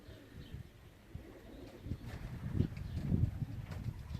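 Racing pigeon cooing at the loft as birds return from a 427 km race from Grudziadz: soft, low, throaty coos that grow fuller and more frequent toward the end, close by over faint outdoor background.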